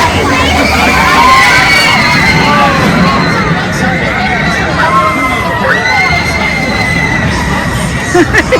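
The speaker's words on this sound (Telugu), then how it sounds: "ఎట్లా అరుస్తున్నారు" Loud crowd of people shouting and screaming together on a fun ride at Southend-on-Sea Pier, a dense, continuous roar of voices with high-pitched cries rising throughout.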